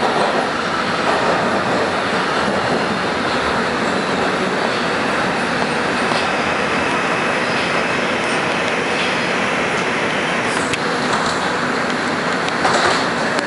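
A 2003 Bombardier R-142 subway car, #7035, runs on a 2 express train along the IRT Lenox Avenue Line, giving a steady, loud rumble of wheels and motors with faint squeals throughout, no voices.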